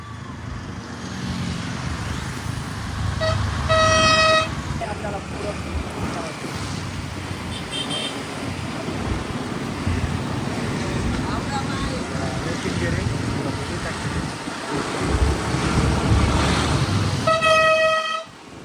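Road traffic on the crowded ghat road near Bhushi Dam in Lonavala in the monsoon, a steady wash of vehicles and wind with bursts of car horns honking around the four-second mark and again near the end, voices chattering beneath.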